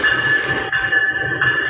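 A train pulls into a station in Canada with a steady, loud rumble and a thin, sustained high metallic squeal running through it. Nobody speaks.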